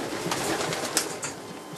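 Pigeons coo and shuffle inside a crowded racing pigeon loft, soft murmuring calls with a few sharper flutters and clicks, close and continuous without speech.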